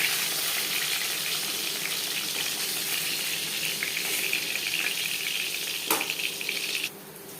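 Panch phoron spices frying in hot oil in a pan while cooking a katla fish kalia: a steady, close, bright sizzle that continues almost without a break, with a brief sharper crackle near the end.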